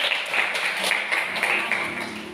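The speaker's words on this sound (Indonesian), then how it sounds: "Bagus, tepuk tangan dulu." Brief classroom applause, a ragged patter of children's clapping with irregular sharper claps, fairly close and steady throughout.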